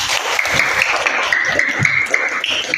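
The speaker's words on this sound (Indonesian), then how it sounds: "kasih tepuk tangan" A classroom full of people applauds during a school guidance session, steady dense clapping that holds throughout.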